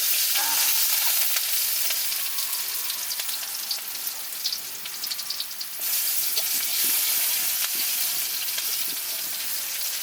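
Freshly sliced spices hitting hot oil in a pan, a loud, dense, continuous sizzle and crackle that fills the whole stretch, with only faint background activity.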